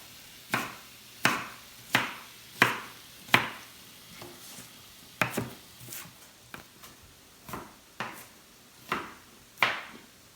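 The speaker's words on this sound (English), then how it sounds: "And then I'm chopping up half of an onion." A knife chops half an onion on a board for pizza burgers, giving a dozen or so sharp, crisp knocks at an uneven, unhurried pace with brief pauses between them, close and clear with no talking.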